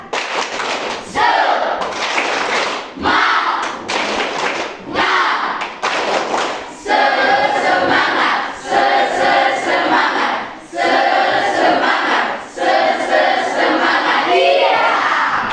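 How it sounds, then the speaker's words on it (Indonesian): A classroom of Indonesian language students performs a rhythmic spirit clap, loud patterned bursts of clapping and thumps with group shouts, repeated in sections with short pauses between them. "tepuk semangat"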